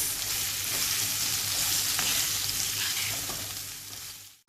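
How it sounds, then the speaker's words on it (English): Steady, loud sizzling and crackling of zucchini frying in a pan, continuous throughout with a low hum underneath and no talking. "Frying the zucchini for about a minute"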